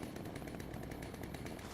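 A chainsaw weapon in Fallout: New Vegas runs loudly and continuously, with a dense buzzing motor whine and rapid rhythmic pulsing from the chain, close and without talking.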